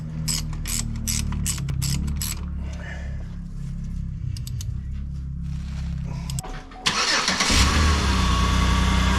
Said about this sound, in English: Okay, gonna tighten up the upper bolt.